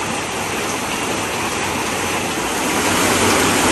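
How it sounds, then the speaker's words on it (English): Steady rain falls outside next to a patio spa corner in a succulent garden, a dense, even wash of hiss with no pauses that swells slightly toward the end. "it's raining outside"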